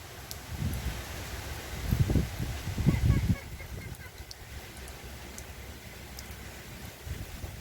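Wind gusts through treetops during a hurricane, a steady outdoor roar with heavier low buffeting swells near the start and brief faint clicks.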